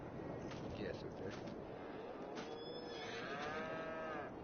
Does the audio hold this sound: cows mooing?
yes